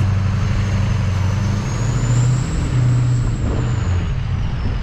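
Heavy truck pulling a trailer while attempting a drift on a snow-covered lot, with a steady loud low engine roar and a thin high hiss running throughout.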